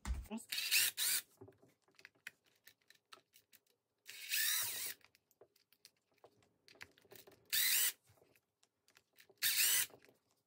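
Small 2 mm bolts being backed out of an Arrma Grom RC car with a powered driver, four short whirring bursts between quiet clicks and handling of small parts, close up.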